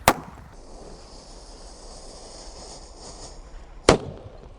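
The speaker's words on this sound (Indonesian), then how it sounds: "Selanjutnya yang akan kita nyalakan, di sini ada Disco Happy Flower Laptor" A Disco Happy Flower firework is lit and gives a sharp bang at the start, then a steady hiss and crackle of burning, and a second loud pop near the end.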